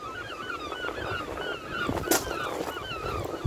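Seagulls cry and squawk by the ocean in the No Man's Sky video game, with repeated overlapping honking calls over a low rush of wind and surf and one sharp burst midway.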